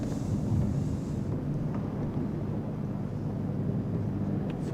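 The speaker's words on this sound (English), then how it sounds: "Sounds like with the chopper overhead." A helicopter passes overhead during a real tennis match, a low, continuous rumbling drone with a faint higher whine, steady and moderately loud.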